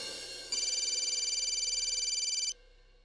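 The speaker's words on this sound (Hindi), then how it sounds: "कब से तुम्हें फोन लगा रहे हैं राम, तुम फोन ही नहीं ले रहे हो बेटा।" A telephone rings in a Hindi TV serial scene as a steady, pulsing electronic tone that lasts about two seconds over a quiet background hum, then stops.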